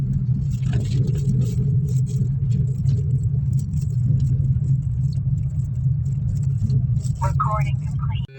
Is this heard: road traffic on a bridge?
yes